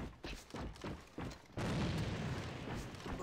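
Grenade blasts in the online shooter AVA: several dull booming thumps, then one heavier, sustained explosion roar that fills the rest of the moment, loud and close, with no voices.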